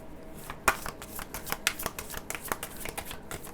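A deck of tarot-style cards is shuffled by hand nearby, a rapid series of crisp flicks and riffles with a few sharper slaps, alone without speech.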